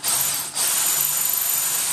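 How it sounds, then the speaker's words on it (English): A small drill boring out M3 tapped threads in a metal clamp part from a Sky-Watcher AZ-GTi telescope mount gives a close, continuous high-pitched whine that dips for an instant early on, then keeps grinding steadily. "drill out the M3 tapped threads and retap them to M4"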